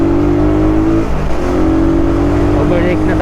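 Car engine droning steadily and building revs to overtake on a provincial highway near Pagbilao, Quezon, during a long Cavite-to-Bicol road trip, with a brief dip in the middle and a voice talking over it.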